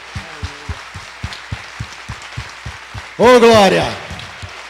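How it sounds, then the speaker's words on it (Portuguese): Rhythmic hand clapping from a church congregation during a worship service, steady beats under a preacher's speech, ending in a loud, drawn-out exclamation from him. "Aplauda ao Senhor."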